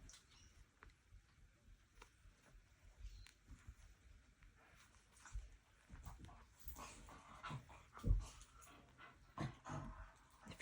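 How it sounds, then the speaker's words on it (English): A dog rolls around on a sewing-room floor, making faint, irregular rustling, scuffing and panting sounds close by in a quiet room, growing busier toward the end. "If you hear that noise, that is my dog having a roly-poly on the floor in my sewing room"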